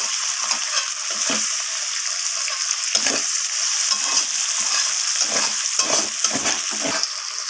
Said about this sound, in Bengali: পেঁয়াজ টমেটোটাকে ভালোভাবে আমি ভেজে নেব টমেটোটা যতক্ষণ না নরম হয়ে আসছে